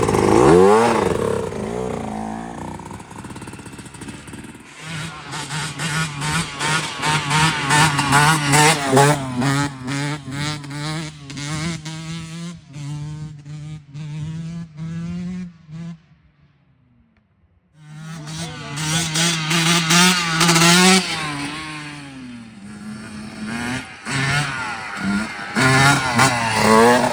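Dirt bike engines rev hard and repeatedly for wheelies, rising and falling in loud rhythmic bursts with throttle blips. A short near-silent gap comes before the revving starts again loud and close.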